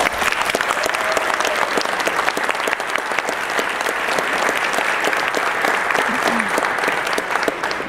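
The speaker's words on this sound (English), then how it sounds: "Let's give them a round of applause." An audience at a fundraising event claps in sustained, dense applause that holds at a steady, fairly loud level for several seconds without a break.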